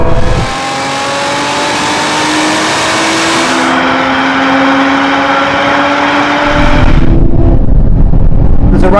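A Lotus Emira and a Toyota Supra drag racing, engines roaring loudly and continuously as they accelerate hard, pitch climbing through the gears with a brief shift drop before the sound cuts to a wider rumble.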